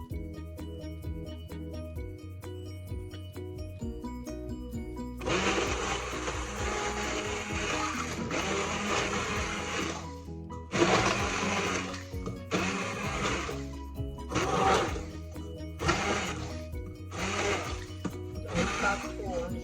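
Kitchen blender whirring through a sauce of fried eggplant for a salted-fish dish, starting after a few seconds of background music and running in loud bursts that stop and restart in a pulsing rhythm toward the end.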